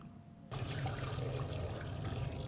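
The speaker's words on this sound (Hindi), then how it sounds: "एक जग भरा हुआ ये सारा पानी इसमें डाल देंगे।" A full jug of water gushes steadily into a pressure cooker holding camel meat, onions and tomatoes, a loud, close, continuous pour lasting a couple of seconds after a quiet start.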